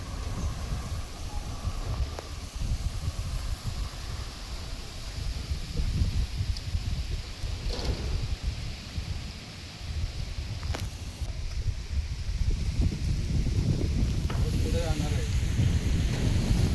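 Strong pre-monsoon gusts sweep through trees in Sindhudurg ahead of the first rain, a steady roaring rumble with rustling surges and a faint voice or two in the background.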